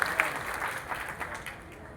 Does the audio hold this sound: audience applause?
yes